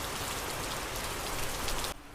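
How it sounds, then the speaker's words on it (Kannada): Heavy rain pours down outside a house in a steady, dense wash of sound close by, with no voices, before cutting off abruptly near the end. "ಹೊರಗೆ ನೋಡ್ರಿಪ್ಪ ಯಾವ ಪರಿ ಮಳೆ ಐತಿ, ಭಯಂಕರ ಮಳೆ ರೀಪ್ಪ."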